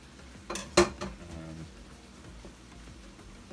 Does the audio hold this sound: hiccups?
no